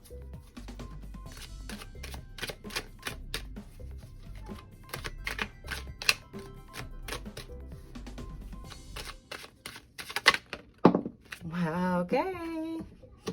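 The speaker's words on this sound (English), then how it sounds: "I'm going to shuffle my deck." Tarot card deck being shuffled by hand, a run of quick crisp riffling clicks and taps up close, quiet and uneven, ending in a few louder handling noises.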